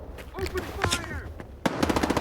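Gunfire in the video game Stalker 2, an automatic burst of close, loud shots ending the moment, preceded by busy in-game voices and scattered clatter.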